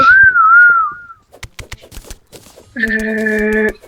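A person whistles a wavering tone at the start, followed by clattering Terraria game noises and then a steady multi-tone sound near the end, all without speech.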